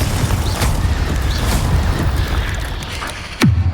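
A Confringo blasting spell in Hogwarts Legacy lands as a heavy, booming impact over a steady rumble of in-game noise, with a second sharp burst near the end.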